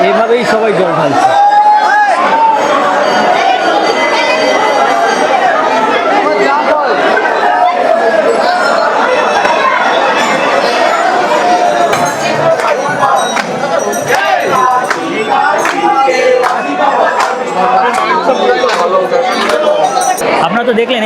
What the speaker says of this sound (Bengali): আপনারা তো দেখলেন এই তারকেশ্বর মন্দিরে এখন কেমন ভিড় রয়েছে